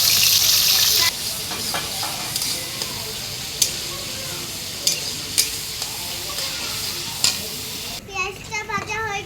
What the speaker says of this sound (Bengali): তেলটা গরম হয়ে গেছে, এবার পেঁয়াজ দিয়ে দিব।